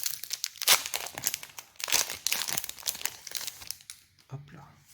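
A Pokémon booster blister pack is handled and opened, giving bursts of crinkling and crackling plastic with a sharp tearing snap, close up, interleaved with a French-speaking voice.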